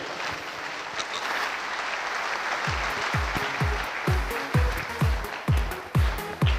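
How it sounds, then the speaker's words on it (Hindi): Audience applause for diamond leaders and the Red Club at a Hindi-language success seminar, a dense steady clapping crowd that swells with louder rhythmic claps toward the end. "हमारे सभी डायमंड लीडर्स के लिए और रेड क्लब के लिए जोर तालियां होनी चाहिए"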